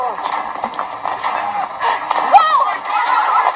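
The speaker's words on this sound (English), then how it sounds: "It's trying to get him on a horse now." Horse hooves clip-clop from the TV series The Last of Us, episode "Kin", as a man is helped onto a horse: a fairly close rhythmic clopping mixed with other show sounds, with voices heard over it.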